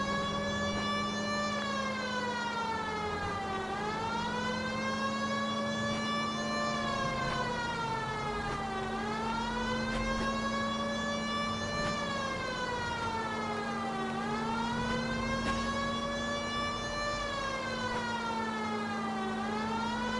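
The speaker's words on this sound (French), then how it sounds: "je mets la sirène parce que ça me saoule" A police car siren from the video game L.A. Noire wails steadily and loudly, rising and falling in long sweeping cycles over a constant engine drone, with no voices.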